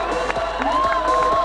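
The crowd at a youth climbing world championship lead final in Noumea, 2014, roars and cheers in a steady wash, with a commentator talking over the noise.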